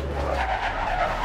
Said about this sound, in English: And you're driving into the side of a building.